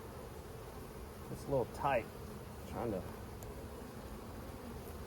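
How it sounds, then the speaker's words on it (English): Honeybees in an opened hive recovering after requeening, humming as a faint, steady background drone under someone speaking quietly and close by while he works the frames. "Probably gonna hurt or roll some bees doing this"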